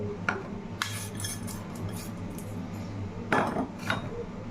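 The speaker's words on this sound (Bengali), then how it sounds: "এটা ভালো করে মিশিয়ে নিব" A spoon stirring powdered sugar into Christmas fruit cake batter in a bowl, with soft continuous scraping and a few louder clinks against the bowl, with no talking.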